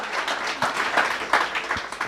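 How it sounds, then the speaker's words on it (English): Workshop audience applauding at a business event in Hammanskraal, a short burst of moderate, dense clapping with a few sharper individual claps standing out. "So please give yourselves a round of applause"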